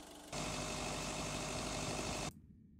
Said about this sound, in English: I'm going to lower the pitch of the main idle sample just slightly.